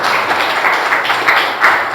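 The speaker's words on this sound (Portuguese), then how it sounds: "Você pode aplaudir o Senhor?" A church congregation claps to praise God, a steady dense wash of applause held at even loudness throughout, with no voices on top.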